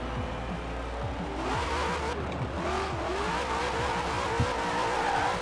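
Formula Drift car with a muffled exhaust in Forza Horizon 4, engine droning and revving at moderate level with a few fluctuating pitch sweeps and a small knock near the end, no voices.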